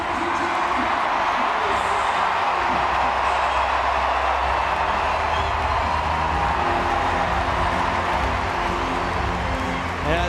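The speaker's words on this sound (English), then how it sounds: "this big crowd here in the Olympic Stadium" Big crowd filling the Olympic Stadium in London at a Diamond League athletics meeting, a loud, steady roar and murmur throughout, with a voice talking over it.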